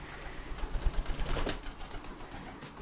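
Pigeons, including a timid white one, coo softly in their loft, the faint low calls scattered with a few light rustles and wing movements.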